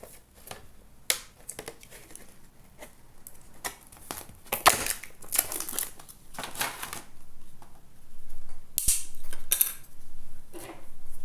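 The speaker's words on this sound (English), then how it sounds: "I use a pair of pliers to help me snap off the smaller pieces" Pliers snap small cut pieces of 2 mm styrene off a sheet, giving scattered sharp clicks and cracks with irregular spacing, close and fairly loud, with rustling handling noise between the snaps.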